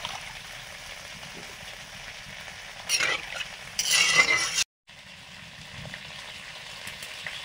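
A big silver carp curry with potatoes cooking in a pan after water is added to the fried spices: a steady low bubbling hiss with two louder scraping stirring bursts, a brief dropout, then simmering again.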